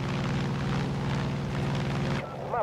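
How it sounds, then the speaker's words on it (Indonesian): A helicopter in the Far Cry 5 video game, a loud, steady rotor rumble with a pulsing chop that holds for about two seconds before cutting out near the end. "Oh my god, kita harus perang sama helikopter."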